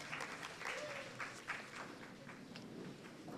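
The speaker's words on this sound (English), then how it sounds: "Let's clap for ourselves." Audience applause at a youth policy dialogue, a brisk patter of many hands clapping steadily throughout, fairly distant and moderately loud, with faint voices mixed into the crowd.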